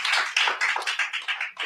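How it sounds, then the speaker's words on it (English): Close, distinct handclaps at a theater performance by The Parsnip Ship, a few individual claps in quick succession, crisp and near with no talk over them. "give another warm round of applause to our musician and our wonderful cast"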